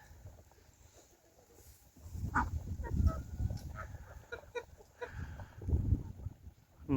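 Farm geese and a gander honk and cackle in a loose, clustered chorus, moderately close, with scattered calls rising and falling and no talk.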